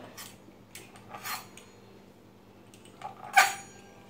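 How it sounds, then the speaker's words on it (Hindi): A pizza cutter trims the crusts from bread slices on a kitchen surface, making faint scattered clicks and scraping taps, with one sharper metallic clink near the end, in a quiet room. "ये देखिए इसका मैं पिज़्ज़ा कटर से ऐसा निकाल दूँगी।"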